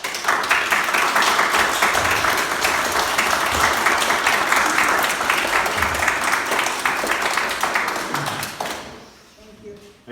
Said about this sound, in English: give her a big clap that she did a good job